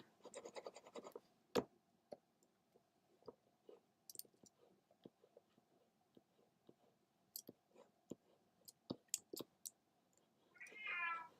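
A pet cat scratches at a door in repeated sharp bursts, with clicks and thumps spread across a quiet room, then gives a clear meow at the end.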